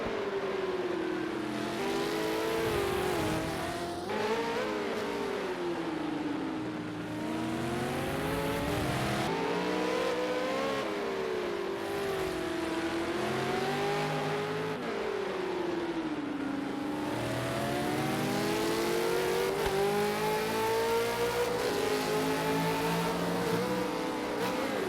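V8 Supercar engines at the Long Beach street circuit rev and rise and fall in pitch continuously as cars race, loud and sustained, with wavering gear-change sweeps throughout.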